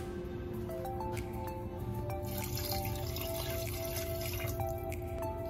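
A steady stream of water pours and drips into a pot of pork for sinigang, continuous and close, with no talking.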